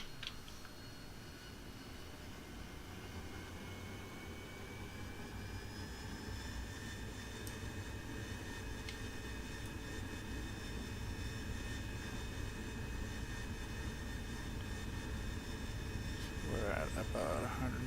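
An AV-8B Harrier jet engine in the DCS flight simulator during a jump takeoff, a steady roaring whine with rising tones that builds gradually over many seconds, with someone talking over it.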